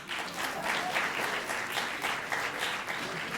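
Applause from a comedy show audience, a brisk, even wash of many hands clapping throughout, filling the room without any speech.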